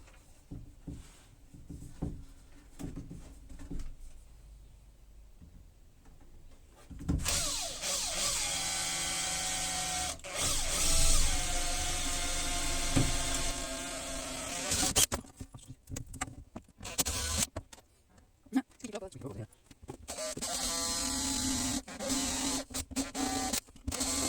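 A power drill whirs and grinds in long stretches while drilling holes in reclaimed wood for a campervan kitchen, starting and stopping with rattling mechanical noise in between, fairly close.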